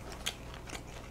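Crispy fried chicken bitten close up, one sharp crunch followed by a softer second crackle, quiet and brief with no talking.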